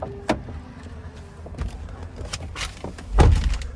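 Someone climbs into the driver's seat of a 2017 Chevrolet Tahoe Premier, with a sharp door thunk, soft seat and cabin rustles, then a heavy door shutting near the end.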